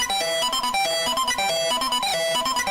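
A harsh, fully distorted synth plays a fast repeating pattern of buzzing notes, loud and gritty with no voices.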